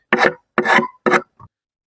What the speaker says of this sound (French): on frotte bien évidemment en dessous pour enlever les excès de cire des constructions de l'ancienne colonie